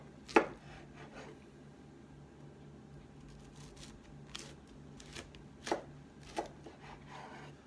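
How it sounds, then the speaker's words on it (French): A knife cuts a cauliflower into slices on a board, a few quiet, sparse crunchy chops in otherwise faint surroundings. "Et je vais le couper en tranches."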